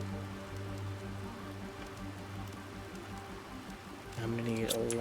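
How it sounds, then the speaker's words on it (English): Rain falling in the Planet Crafter video game, a steady hiss of drops on surfaces under a droning in-game music bed, growing slightly louder near the end. "Oh, and we got some rain."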